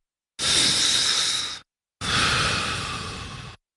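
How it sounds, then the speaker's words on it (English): Two long, deep breaths in an animated children's story, each a slow, close, airy inhale or exhale of about a second and a half, separated by a short silence. "Sam closed its eyes again and took another deep breath"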